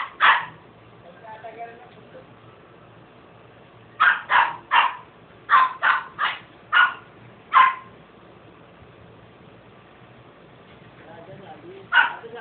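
A dog barks sharply in short clusters, several quick yaps in a row with quiet gaps between them, fairly close by.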